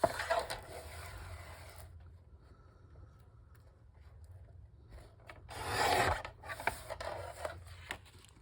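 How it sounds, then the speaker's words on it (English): A paper guillotine slices through a sheet for a junk journal, with a short dry rasping cut followed by quiet handling, then a louder scraping swipe near the end, close up. "Get my guillotine here so I can cut it off."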